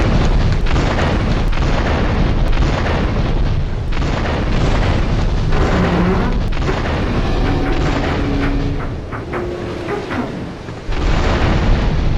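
A bomb detonates in GTA 3, a loud, dense roar of blast and rumbling debris that fills the whole stretch, easing slightly near the end before surging again.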